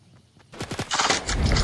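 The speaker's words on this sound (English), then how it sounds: "Someone shot at us." Bursts of video game gunfire, likely shotgun blasts in a shooter match, hit after a quiet start, with sharp reports and loud crackling impacts that build through the second half.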